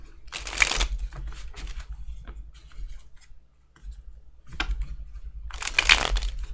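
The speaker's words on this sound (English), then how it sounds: "I had a moment where I thought I was shuffling wrong." Tarot cards are shuffled in close, soft bursts of riffling and scraping, with two louder shuffles at the start and end and quieter card handling between them, no talk.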